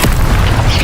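Incendio fire spell cast in Hogwarts Legacy, heard as a loud, low booming burst that swells briefly and fills the short moment alone, with no voices over it.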